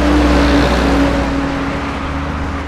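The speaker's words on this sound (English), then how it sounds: "The sound of traffic on the Thika road in Kenya's capital, Nairobi." Busy road traffic on Thika Road in Nairobi, Kenya, a dense continuous rumble of car and vehicle engines with a low drone and passing motor noise, loud and close, with no talking.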